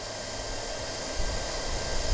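Hot air welding gun heating PVC sheet for a biogas bag, giving a steady, loud, even blowing hiss that stays constant throughout, with no talking.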